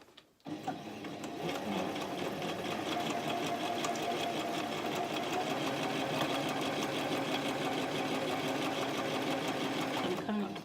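A sewing machine stitches a zip into a cushion in a continuous, steady, close-up mechanical whir that runs nearly the whole time after a few opening clicks.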